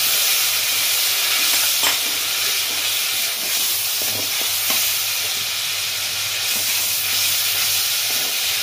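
Onion paste and garlic paste hit hot oil with turmeric, a loud, continuous hissing sizzle close by, with a few brief clinks and stirring knocks over the steady frying roar.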